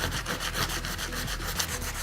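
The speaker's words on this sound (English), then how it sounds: "So I'm just going to sand that out." Rhythmic back-and-forth scraping of sandpaper on cured resin, close and steady, each stroke repeating at a quick, even pace with no talk.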